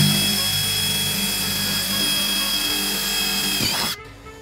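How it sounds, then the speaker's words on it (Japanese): A power drill bores a hole while metal brackets are fitted, giving a loud, continuous high whine that holds steady for about four seconds before cutting off abruptly. "穴を開けます"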